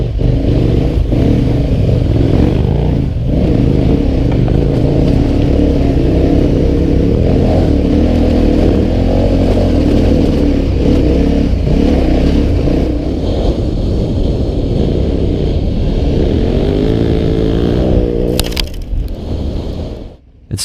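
A KTM 1190 Adventure R motorcycle rides off-road over steep, rough, greasy hills, its engine loud and close throughout, revving up and down with a steady throbbing drone and gear changes before it cuts off near the end.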